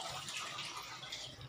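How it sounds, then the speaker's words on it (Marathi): Steady running water pours while dal and rice are rinsed in a kitchen, a soft, continuous splashing rush with no voices. "डाळ आणि तांदूळ स्वच्छ धुवून घेते"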